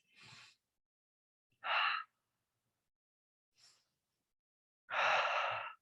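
Breaths taken during a yoga session come as four separate, close audible breaths with silent pauses between them, ending on a long, strong exhale.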